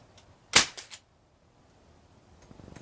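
A single sharp crack from a Crosman 1077 semi-auto .177 CO2 pellet rifle on a fresh CO2 cartridge, close and loud, followed by a couple of quick fainter clicks, then quiet.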